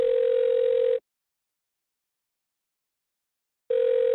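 A steady telephone dial tone plays for about a second, cuts to silence, then resumes near the end, clear and alone.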